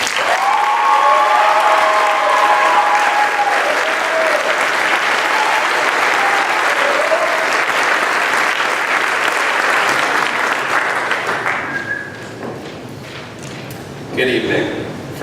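Sustained audience applause welcoming the salutatorian at a 2018 Randolph-Macon Academy graduation ceremony, loud and dense for about twelve seconds before fading, with voices mixed in.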